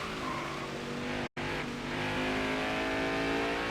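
A race car engine in a racing video game set at New Hampshire drones at steady high revs as it accelerates, loud and continuous with a brief sharp cutout before the tone rises again.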